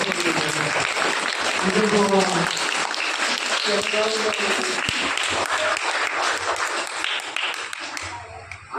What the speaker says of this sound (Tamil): கைத்தட்டே எல்லாம்